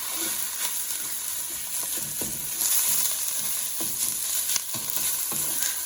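Sausage browning in a hot pan, a steady crackling sizzle with occasional stirring scrapes, close and fairly loud with no talking.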